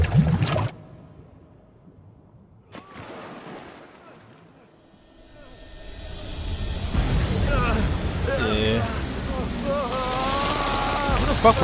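Rain in The Evil Within 2 video game swells from near silence into a steady, loud wash of falling water, with a voice talking over it.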